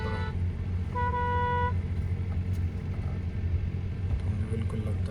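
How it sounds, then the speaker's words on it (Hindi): Car horns honk in busy Hanoi street traffic, with two short toots near the start over a steady rumble of engines and road noise. "देख रहे भाई कितना हॉर्न वगैरह बजा रहा पड़ रहा है"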